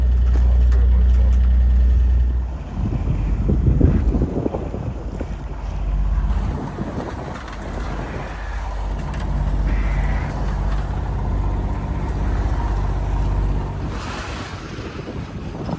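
A 9 m sailboat motors under engine power in near-calm conditions, a low steady engine rumble mixed with wind buffeting the microphone and water washing along the hull.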